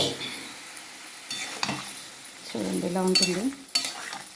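Chole poured with their water into hot oil-fried masala, bursting into a loud sizzle as the pan is stirred with scraping utensil clatter, someone speaking briefly over the cooking.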